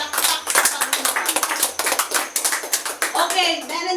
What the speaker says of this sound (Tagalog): isa pong malakas na palakpak sa Panginoon